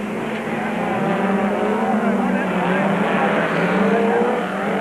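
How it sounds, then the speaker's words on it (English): A Ford race car is driven hard in a 1997 Super Series race, its engine a loud, steady, continuous roar close by with slight pitch shifts and no letup, while a commentator talks over it. "Piazzamusso throwing that Ford around and Millen pushing."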